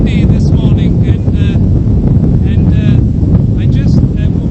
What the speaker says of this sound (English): You know, it's very windy this morning